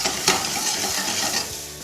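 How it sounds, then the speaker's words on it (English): Turkey meatballs sizzling and frying in a pan that is shaken and swirled so they roll around, giving a steady loud close sizzle with rolling scrapes, with no talking. "If you shake the pan or swirl the pan, what happens? They roll themselves."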